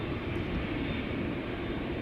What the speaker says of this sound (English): We're starting to hear American Airlines Flight 203 coming closer by.